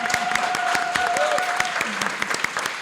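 Audience at a legislative health caucus event applauding and cheering, dense sustained clapping with a whistle-like cheer riding over it, fairly loud and close, lasting the whole short stretch.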